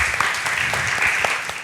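Audience applause for dancers on a Boogie Woogie dance show stage, a dense steady wash of clapping with a few louder claps standing out, fairly near and continuous throughout.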